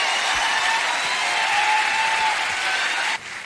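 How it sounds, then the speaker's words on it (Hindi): Loud, dense audience applause at a stage event as family members are called up, a continuous wash of many hands clapping close by that drops off sharply near the end. "मैं चाहूंगा कि आप जोरदार तालियों से स्वागत करें"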